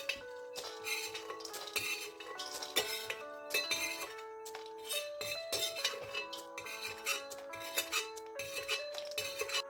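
Steady metallic scraping and clinking of a utensil against a pan as roasted pumpkin seeds are scooped out, repeated scoops with rattling bits, close and fairly loud.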